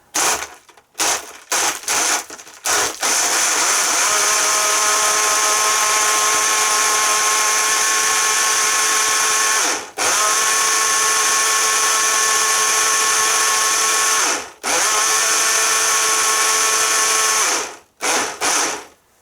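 A Breville Blend Active blender crushes ice in a loud, steady whirring drone, interrupted by a few short pauses and stops.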